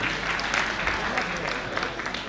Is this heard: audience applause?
yes